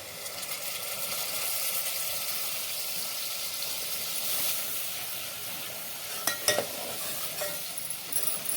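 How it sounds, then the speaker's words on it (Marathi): Coconut, sesame and poppy seed paste goes into hot oil in a pan, giving a steady soft sizzle and hiss with a few sharper crackles and stirring scrapes near the end, no voices. "आता त्याच्यामध्ये आपण जी खोबरं तीळ आणि खसखसची जी पेस्ट करून घेतली होती ती घालूया"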